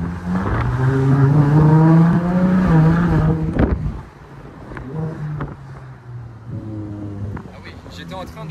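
A Ferrari Monza SP2 open-top car accelerates with a loud, rising engine note that drops away, followed by quieter cruising at low speed around Monaco with wind buffeting and a person talking over it.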